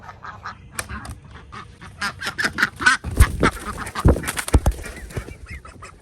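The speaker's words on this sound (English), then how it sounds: "let's let these ducks out" Ducks quacking and geese honking together in a busy, overlapping chorus, with louder bursts near the middle and no talking.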